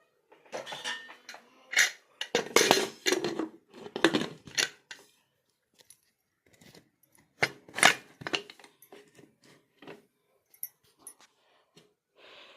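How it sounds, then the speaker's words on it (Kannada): Metal lid clanks and clatters against a pressure cooker pot holding chicken sambar with water in close, irregular bursts, separated by short quiet pauses and faint breathy noise. "ನೀರು ಹಾಕಿದ ನಂತರ ಕುಕ್ಕರ್ ಲಿಡ್ನ ಮುಚ್ಚೋಣ"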